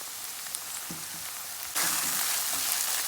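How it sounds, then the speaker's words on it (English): Tomato paste frying in a pot for a bora, carrot and salt fish stew, a steady close sizzle that jumps louder partway through as it hits hotter oil or gets stirred, with no talking. "We're gonna cook the tomato paste for about 2 minutes until we get rid of the rawness of the tomatoes"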